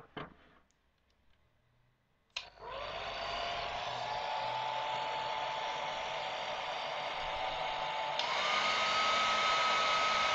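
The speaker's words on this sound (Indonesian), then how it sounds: "menggunakan hair dryer untuk memanaskan udara di sekitar ya teman-teman ya" A hair dryer is switched on to heat the air around a DHT11 temperature and humidity sensor, starting after a couple of soft clicks and blowing as a loud steady whoosh with a whine that shifts up in pitch near the end.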